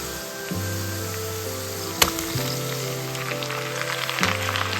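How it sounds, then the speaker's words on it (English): Sliced onions sizzle and fry in hot oil with golden ginger and garlic, a steady loud hiss running throughout, with a brief sharp clink partway through and low humming tones behind. "Keep stirring until the onions are soft and transparent"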